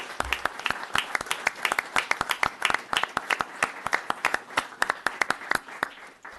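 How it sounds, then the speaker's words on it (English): An audience at a town board meeting applauds a new police officer, a modest crowd clapping in distinct, uneven claps at moderate distance, fairly quiet and fading at the end. "So can I get a nice round of applause for Officer Brian Bennett?"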